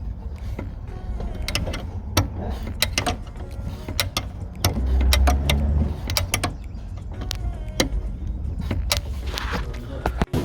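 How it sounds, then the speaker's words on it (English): A 10mm bolt being undone on the fuel filter of a 2015 Nissan Juke diesel, close ratcheting and metallic tool clicks repeating irregularly, with no talk. "I think it's just that one 10mm bolt. Take that off."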